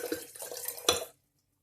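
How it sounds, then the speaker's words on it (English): Water poured into a mug for rinsing while bottling home brew beer, a short close splashing gurgle that builds and stops abruptly after about a second, with no talk. "put water in there."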